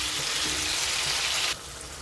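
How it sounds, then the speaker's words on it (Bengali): Tomato, potato and onion frying in a pan, a steady close hissing sizzle that drops abruptly to a softer simmer near the end. "ততক্ষণ ভাজবো যতক্ষণ না টমেটোটা গলে যায়"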